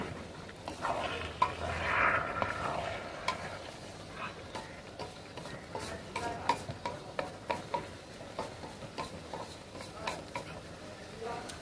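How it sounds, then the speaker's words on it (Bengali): Vegetables with Malabar spinach and prawns sautéed in a pan for a Bengali chorchori, giving a soft continuous sizzle with scattered light spatula clicks and scrapes, moderately quiet and close, no voices. "সবজিগুলো ভালো করে কষাতে হবে।"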